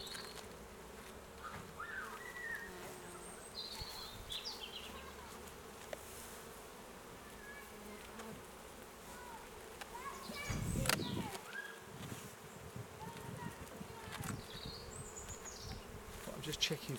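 Honey bees buzz steadily around an open hive in Essex, a quiet, continuous drone with individual bees whining past close by and brief handling bumps partway through.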